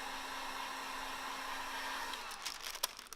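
Steady whooshing roar of a heat gun blowing hot air while window tint is being removed, loud and close with a faint tonal hum, cutting off near the end before a few small clicks and rustles.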